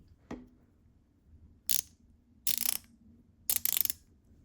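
KTC Nepros NBR390A ratchet wrench, freshly lubricated with a few drops of light bike lube, giving one sharp click followed by three short bursts of rapid ratcheting clicks, close and alone.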